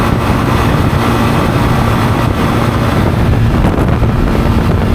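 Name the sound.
wind noise while riding a motorcycle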